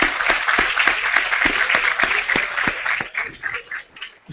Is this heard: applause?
yes